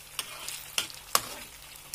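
Tofu and anchovies frying in oil during a second fry for a chili tofu-anchovy dish, giving sparse, fairly quiet crackles and pops over a soft steady hiss.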